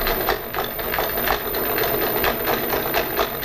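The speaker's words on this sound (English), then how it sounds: "So what I'm going to do is I'm going to sew my pleats first." A sewing machine stitches the pleats of a fabric face mask, giving a steady, rapid mechanical whirr and clatter, close and continuous.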